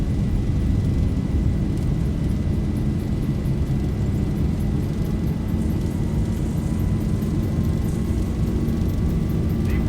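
Steady, loud roar of Boeing 737 jet engines on the takeoff roll in the X-Plane 11 flight simulator, a continuous broadband rumble with a faint rising whine and no pauses.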